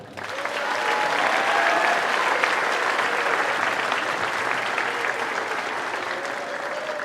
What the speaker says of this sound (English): big round of applause for Ryan Howard.